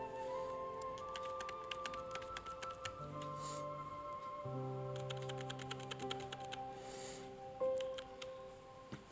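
Irregular keyboard clicks from typing a date into an MS Word bill, with bursts of rapid taps and pauses over a steady background hum, fairly faint and close.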